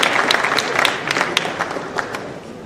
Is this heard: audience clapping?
yes